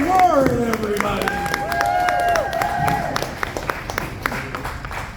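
An audience at a comedy show applauds a comedian with steady clapping, while a voice and a tonal sound play over the start before the clapping thins out.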